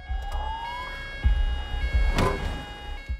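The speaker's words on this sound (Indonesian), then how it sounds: "terdengar suara sirene polisi mendekat" Police siren in a film scene, a loud wailing siren with steady rising tones close by, accompanied by thuds and crashing impacts.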